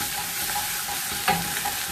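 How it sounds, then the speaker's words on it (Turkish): Tomato and pepper paste stirred and sautéing in a pan gives a steady close sizzle with faint scraping from the stirring, continuous for the whole stretch without any talking. "Böyle karıştırarak salçanın çiğlenip gitmesi için kavuracağım."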